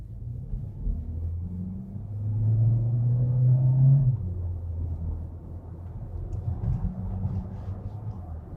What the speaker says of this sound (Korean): 가속 페달에 발만 얹고 출발을 쭉 하면은 60km까지 쭉 가다가 60km 정도에서 2단으로 이렇게 바뀌어요